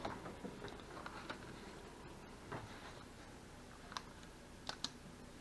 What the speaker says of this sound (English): a cordless keyboard with a mouse pad, so that I can sort out the settings